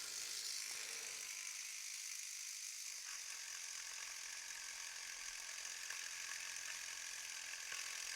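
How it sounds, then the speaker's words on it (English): Small powered sander taking paint off a part of a McLaren MP4-23 scale model car, a faint steady high buzzing whir that runs throughout with light rattling texture. "So I'm going to use the sander."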